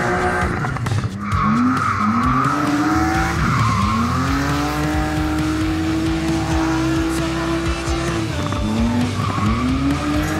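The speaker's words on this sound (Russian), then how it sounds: "моторы и свистит резина. Соответственно, дрифт." Drifting cars at a Lithuanian drift event, engines roaring loudly with long sustained revs and rising tones while tires squeal continuously, dense and close throughout.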